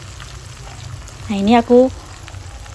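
Dendeng beef with green chili fries slowly in coconut oil over low heat. A soft, steady sizzle runs throughout as a voice speaks briefly over it.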